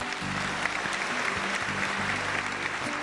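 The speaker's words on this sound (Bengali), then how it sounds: "আরেকবার জোরে হাততালি" Studio audience applause on a children's televised dance competition, a sustained wash of clapping from a crowd, with faint voices underneath.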